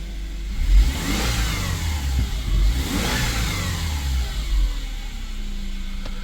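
A car engine, just put back together after repair, revs up in two surges with a rough, low rumble throughout, close by and fairly loud, with no talking.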